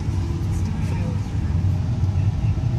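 A 1999 Bentley Arnage twin-turbo V8 pulls away under load, a deep steady engine rumble heard from inside the cabin with a faint turbo whine above it and someone talking over it.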